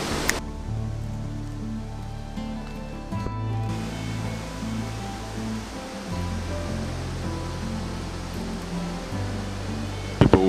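The Ekom Nkam waterfall in Cameroon gives a steady, loud rushing roar of falling water that fills the whole stretch, with a faint low tonal hum underneath.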